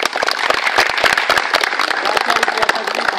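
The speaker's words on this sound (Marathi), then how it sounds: "तर त्या ज्ञात अज्ञात वीरांसाठी टाळ्या व्हायला पाहिजे" An audience breaks into loud, close applause for historic local heroes, sharp individual claps packed into a brisk, uneven burst that runs without a pause.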